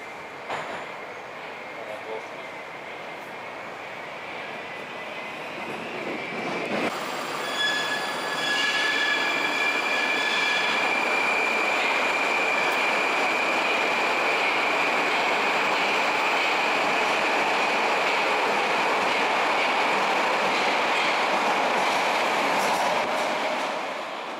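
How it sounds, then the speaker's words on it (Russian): A Moscow metro train in service on the Filyovskaya line since 2018, pulling in with rising rumble, squealing wheels and a high whine that swells and holds, loud and close for most of the stretch. "Поезд, который с 2018 года колесит по Филевской линии."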